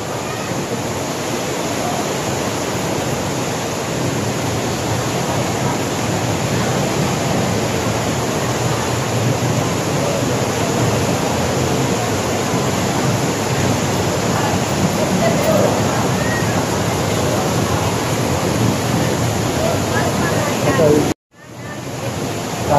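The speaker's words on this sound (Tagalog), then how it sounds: "Malakas yung agos ng ilog dito." The Marikina River's strong, typhoon-swollen current roars steadily and loudly throughout, a dense continuous wash of noise with a brief dropout near the end.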